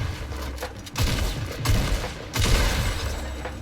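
Gunfire in Fortnite Battle Royale, with several loud, dense bursts of rapid shots and impacts separated by short lulls.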